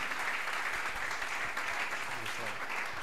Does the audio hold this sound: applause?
yes